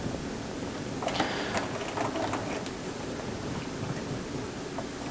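A sewing machine stitches slowly around a curved circle on a duffle bag, a low mechanical hum with faint ticking over steady background noise.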